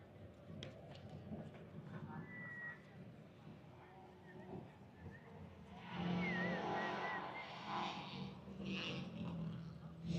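A naturally aspirated 2.5 RS rally car comes in fast on a forest rally street stage, its engine swelling from distant to loud and close over the final seconds, with an onlooker talking beforehand.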